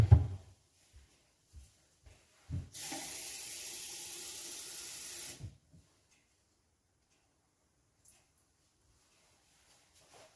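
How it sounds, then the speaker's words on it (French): Kitchen tap running for about three seconds to add 25 centilitres of water for a mussel sauce, a loud steady gush framed by clunks and small knocks before and after. "Et on va compléter avec de l'eau 25 centilitres."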